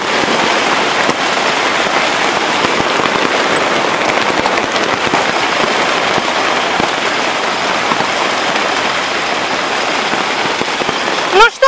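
Hail pelts a garden of tomato plants in a dense, continuous pattering roar, loud and close throughout, with a few sharper impacts near the end.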